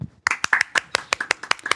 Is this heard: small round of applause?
yes